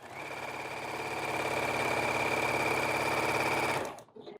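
A sewing machine sews a pink strip onto mandala-print flannel with a quarter-inch seam, running in a steady, close, rapid whir for about four seconds before stopping abruptly.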